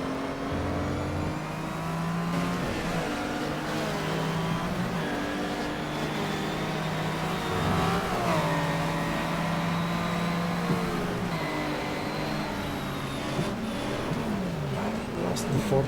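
Racing car engine in GTR2 at Calder Park during a 1987 WTCC race, a steady close buzzing drone that rises and drops with gear changes, while someone talks over it.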